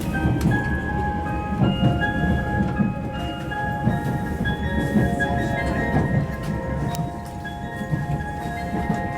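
Interior of the Yakumo limited express, the last service bound for Okayama, with a steady loud rumble of the train running and faint rattles throughout.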